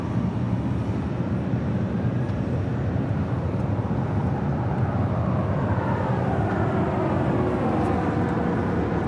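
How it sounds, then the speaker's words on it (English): An American Airlines Boeing 737-800 takes off from LAX, its jet engines producing a loud, steady, broad roar that fills the whole stretch without talk. "Taking off there, that was American Airlines flight 2332 heading to Indianapolis, Indiana at a 737-800."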